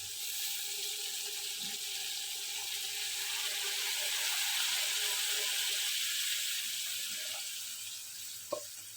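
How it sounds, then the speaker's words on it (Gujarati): Water poured into a hot pan of sev tomato curry gives a steady, soft hiss and sizzle that swells and then eases, followed by a faint clink near the end. "હવે છે ને આપણે પાણી નાખી દેવાનું છે"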